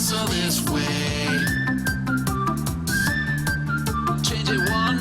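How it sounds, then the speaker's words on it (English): A congregation whistles along during a live-streamed church song, a bright whistled melody weaving over steady, loud music with a driving beat and no spoken voices. "Now whistle this way."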